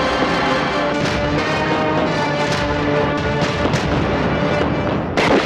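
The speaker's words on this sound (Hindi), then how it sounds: "गोली चला दूंगा बजाज" Rapid bursts of loud gunfire in a Hindi film, many shots in quick succession with booming echoes, close and intense throughout.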